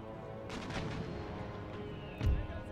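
Artillery fire in Empire: Total War as cannons trade shots, with a low battlefield drone, a few scattered distant reports and one heavier boom near the end.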